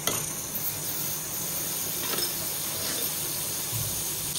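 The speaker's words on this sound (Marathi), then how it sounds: "कढईत आपण तापत ठेवलेले आहे. त्याच्यामध्ये आपण बटर टाकू" Butter sizzling and frying in a hot kadhai as pav bhaji cooking begins: a steady, close hiss of fat spreading across the hot pan, holding evenly for several seconds with faint stirring scrapes and no talk.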